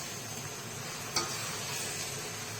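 Green jackfruit and potatoes, already fried, being stirred with spices in a pan: a steady low sizzle with a single sharp scrape or clink of the spoon partway through.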